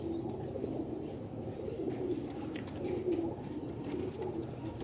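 A pair of Ali wala pigeons, male and female, coo in repeated low, rolling calls over a constant background hum, with a faint higher chirp recurring throughout.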